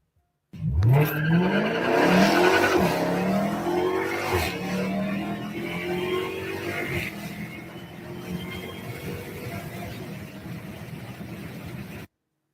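A Dodge Dart car pulls away, its engine surging loud at first and then fading steadily as it recedes into the distance, with no talking.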